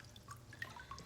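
Water drips and trickles off a handmade paper mould during papermaking, faint scattered drops close by with no talk.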